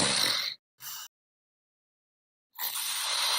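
A man snores in short breathy rasps, two quick close bursts followed by a silent gap and then another longer snore, fairly loud with nothing else heard.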